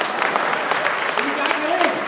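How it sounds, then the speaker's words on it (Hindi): Audience applause at a Hindi comedy show, a steady dense wash of clapping throughout the short stretch, with a voice talking over it. "तालियां तो खूब बजा रहे हैं"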